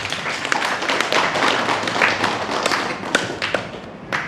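An audience at a family counselling talk in a mosque applauds with a dense, steady stretch of hand clapping that fills the room, sustained for several seconds before easing off.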